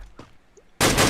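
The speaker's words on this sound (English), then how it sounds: "they hear the gunshots, they hear the fights going on around the map" Gunfire in the Free Fire battle royale game, a sudden loud burst of rapid shots starting after a quiet stretch of faint background sounds.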